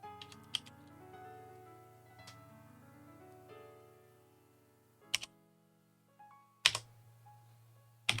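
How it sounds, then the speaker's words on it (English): Sparse, hesitant keyboard clicks come in a few isolated bursts several seconds apart, as someone types awkwardly upside down, heard close over soft sustained electronic tones. "I have to start typing upside down for a little bit."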